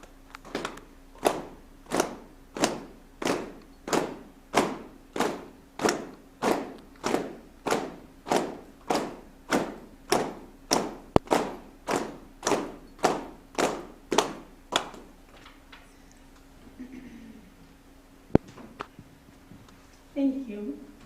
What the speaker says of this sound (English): So when I begin, we can all begin to clap.